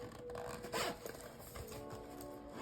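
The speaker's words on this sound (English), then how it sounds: "Let me zip it up." A makeup bag's zipper is pulled closed in one quick, close, raspy stroke with a few small scrapes after, faint and without talking.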